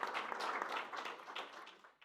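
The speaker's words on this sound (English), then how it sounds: "Applause for you." Applause from a conference audience after speaker introductions at a European security event, dense steady clapping throughout that fades out toward the end.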